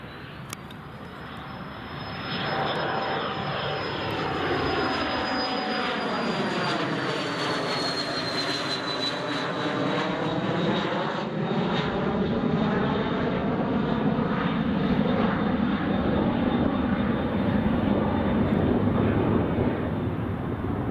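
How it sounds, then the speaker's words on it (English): RAF Phenom jet passing at Newcastle Airport, its engine roar and whine swelling loud and near, then sweeping past with a falling pitch before a long, sustained rumble. "Here it comes. RAF Phenom, Zulu Mike"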